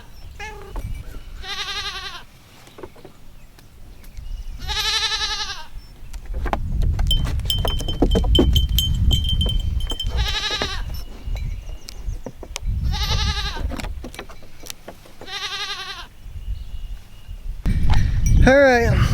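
Goats bleat repeatedly nearby, several loud, wavering calls spaced a few seconds apart, with rumbling background noise and a person talking between them.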